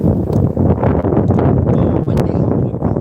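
Heavy wind buffeting a microphone on an e-bike cruising a smooth town sidewalk at night, a loud continuous roar with gusting rumble throughout.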